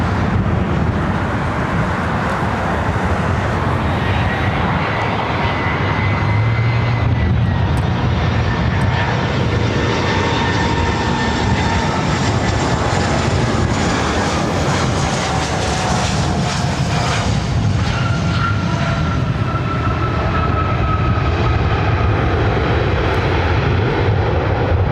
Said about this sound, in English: It's that China Airline 747 early rotation there on the south side.